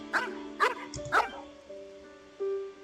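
A dog in the Genshin Impact video game barks three times in quick succession, close and clear, followed by a softer whimpering tone over a quiet musical background.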